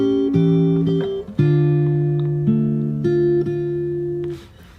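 An acoustic guitar in drop D, played fingerstyle, works through a bar of a song. Several plucked bass-and-chord strokes land at a steady pace and ring on, close and clear, then fade at the end with no talking.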